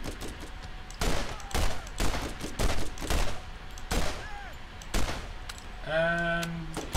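Gunfire aimed at the player in Borderlands, a series of sharp, loud shots in irregular bursts from close by, followed by a brief ringing tonal effect near the end.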